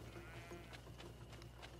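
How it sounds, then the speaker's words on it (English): Goats bleat in the GreedFall video game, several short calls repeating steadily through the moment over a constant low ambient hum. "Hello there, goats."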